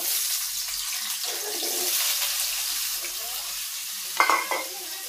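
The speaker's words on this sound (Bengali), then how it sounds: "আলুটি ভাজা নিব।" Potatoes frying in oil in a wok in a home kitchen, a steady close broadband sizzle running throughout, with a few brief clinks near the end.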